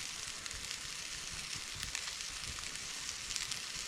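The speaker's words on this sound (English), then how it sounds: "Fresh fish frying in the pan." Quiet, steady sizzling of fresh fish frying in a pan outdoors in New Zealand, a continuous crackling hiss with small pops and no talking.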